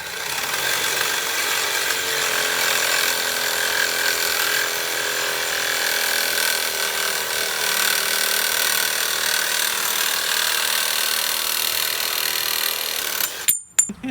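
A Black & Decker power saw cuts steadily for about thirteen seconds with a continuous, loud buzzing rasp, then stops abruptly with a few clunks at the end.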